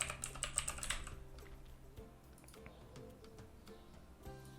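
Someone types on a computer keyboard while working in Photoshop. There is a quick close burst of key clicks at first, then sparser, quieter taps and clicks.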